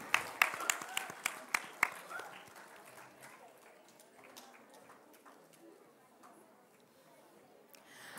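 Students and staff at a school accolades assembly clap for an award winner. A few sharp, close claps ring out at the start, then quickly thin into faint scattered clapping while someone talks quietly in the background.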